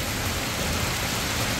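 Heavy rain mixed with hail pours down in front of a tire shop in Aydınlar, flooding the street: a dense, loud, steady roar with no pauses.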